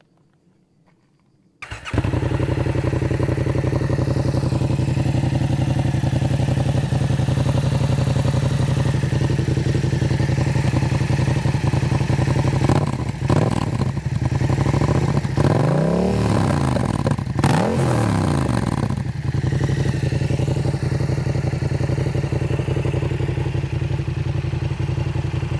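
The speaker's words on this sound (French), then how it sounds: "je vais te la démarrer, je vais te montrer le bruit que ça fait un petit peu." A warm Yamaha MT-07 motorcycle engine cranks and catches, then settles into a steady, loud idle close by, with several short blips of throttle revving in the middle before dropping back to idle.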